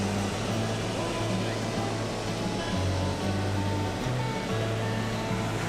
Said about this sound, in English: On one side of the road is this beautiful waterfall